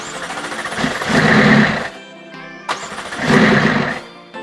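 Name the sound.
McLaren engine cranking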